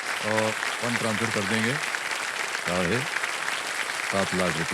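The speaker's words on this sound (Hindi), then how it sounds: "तालियां बजती रहे देखो सब में।" Studio audience applause on the KBC game show set, a steady broadband clapping wash running throughout, with a host's voice speaking over it in bursts.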